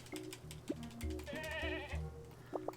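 A goat in the video game Carto bleats in short wavering calls, a few separate cries over soft game music and chimes, clear and close.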